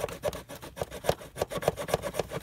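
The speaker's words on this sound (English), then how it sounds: "use proper sawing techniques whenever you're trying to remove a piece of plastic" Hand sawing through plastic with a quick, steady back-and-forth rhythm, each stroke a sharp rasping burst, close and fairly loud with no talking.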